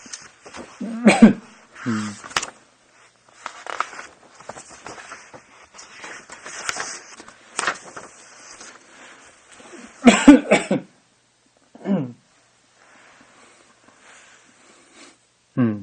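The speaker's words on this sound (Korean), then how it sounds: "좀 기침이 나네요." A lecturer coughs during a Korean theology lecture, with a few sharp, harsh bursts standing out between stretches of quiet speech.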